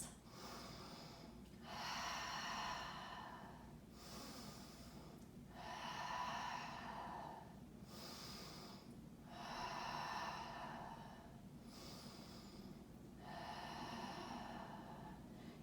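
Slow, deep breathing while holding a yoga pose: about four long, drawn-out breaths with soft hissing inhales and exhales at a steady unhurried pace, close and quiet.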